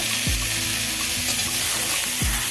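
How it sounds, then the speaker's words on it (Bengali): Cut potatoes frying in a little oil in a wok give off a dense, continuous sizzle, with two low scraping stirs breaking in near the start and end, close and alone. "সামান্য তেল দিয়ে প্রথমে কেটে রাখা আলুগুলোকে ভেজে নেব।"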